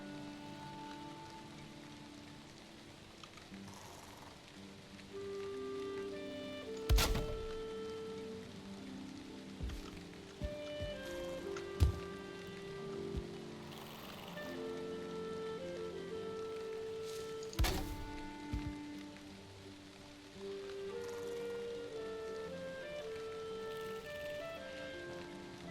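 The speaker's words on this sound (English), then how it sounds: "I feel like it's raining all the freaking time." Steady rain in the video game Valheim patters on a surface, with occasional louder thuds and clicks over a soft musical background.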